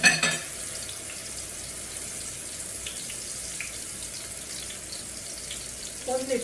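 Kingfish pieces fry in oil in an electric pan, a steady close hiss of sizzling that runs throughout, with a brief clunk at the start and a small knock near the end.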